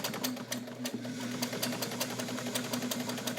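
A Juki heavy-duty all-steel sewing machine runs at moderate speed, a close steady stream of rapid stitching with a constant motor hum throughout.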